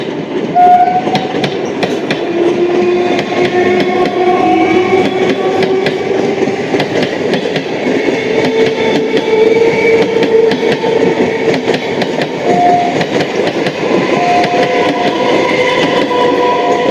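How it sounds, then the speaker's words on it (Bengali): A Hasnabad–Sealdah local train pulling into Dum Dum station in Kolkata, a loud, steady rumble of wheels on rails with rhythmic clatter and faint squealing tones as the coaches roll past close by. "এটা ডাউনে হাসনাবাদ শিয়ালদা ঢুকছে।"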